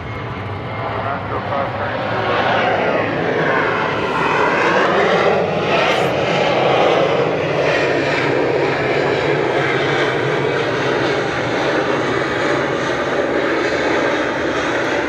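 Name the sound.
Airbus A321neo jet engine noise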